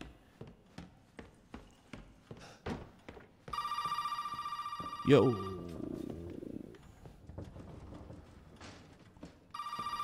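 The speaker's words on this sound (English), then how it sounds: "Is that the phone? That's a phone." A telephone rings in the video game Resident Evil Biohazard, giving a loud, sustained electronic ring that stops and then starts again, following a series of rhythmic footsteps. Someone speaks briefly.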